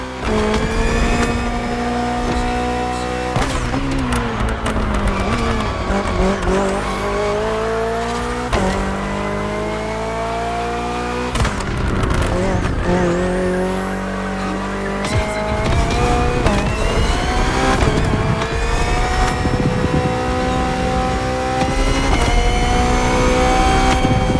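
A BMW hybrid V8 race car in the video game The Crew Motorfest roars continuously, its engine note climbing through rapid gear changes and repeated upshifts, loud and close for over twenty seconds with occasional tire squeal.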